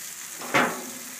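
Sirloin steaks and fresh garlic cloves sizzle on a mesquite wood grill, a short close crackling hiss that swells briefly and fades.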